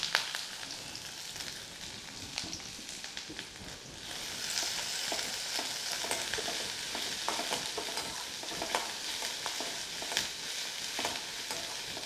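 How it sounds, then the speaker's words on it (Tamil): Steady sizzling of finely chopped onions frying in a pan for idli podi onion dish, with occasional stirring scrapes and crackles throughout, no talking. "வெங்காயம் ஒரு ரெண்டு நிமிஷம் நல்லா வதங்கட்டுங்க"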